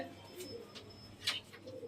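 Pigeons kept for sale at a breeder's home coo softly in short low bursts, with faint chirps and rustling around them and no talking.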